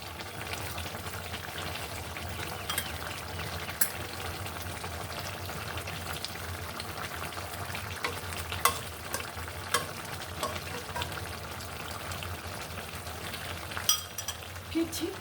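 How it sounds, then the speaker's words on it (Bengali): Dried fish (shutki), already fried, goes into a hot pan and sizzles steadily while a utensil scrapes and stirs with scattered clicks, close and moderately loud, with no talking. "এখানে আমি শুটকি মাছ রেখেছিলাম ভেজে সেটা দিয়ে দিচ্ছি"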